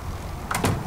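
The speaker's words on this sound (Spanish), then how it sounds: "Vamos a cerrar la puerta." A video-game door swinging shut, a quick double knock of wood closing near the end after a moment of quiet room tone.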